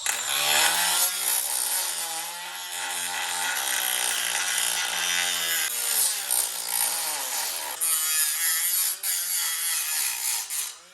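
An abrasive cutting disc grinds through the body of a C7 Corvette, a loud, sustained harsh whine that runs nearly unbroken, with brief dips as the cut shifts.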